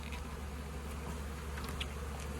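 Bees hum steadily around a package of honeybees being worked into a hive, a continuous low drone with a few faint higher flits and taps and no talk.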